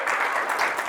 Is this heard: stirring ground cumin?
no